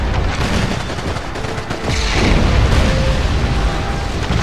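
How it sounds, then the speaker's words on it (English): Grenade explosions and gunfire in Call of Duty 2: Big Red One on PS2, loud dense booms and rattling shots blending into a continuous roar of battle noise. "So you can destroy with this game grenades."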